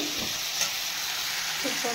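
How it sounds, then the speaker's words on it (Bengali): Fish frying with coriander and cumin alongside vegetables for a thin Bangladeshi-style fish curry: a steady close sizzle with faint stirring scrapes, no voices. "এভাবে আমি ধনে আর জিরা দিয়ে ভালো করে মাছটাকে ভাজা ভাজা করে কষে নিলাম মশলাগুলো সবজির সাথে"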